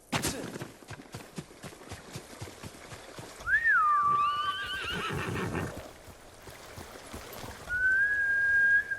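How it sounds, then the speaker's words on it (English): A horse whinnies loudly in Ghost of Tsushima: Iki Island amid footsteps and ambient sounds, followed later by a long whistle. "Horse!"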